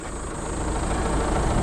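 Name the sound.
Tata Harrier 2-litre diesel engine running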